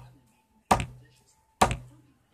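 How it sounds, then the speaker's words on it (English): Two sharp knocks of a pen struck against a coffee table using a wrist motion, spaced about a second apart, close and fairly loud, each with a quick decay into near silence. "1, you use your wrist"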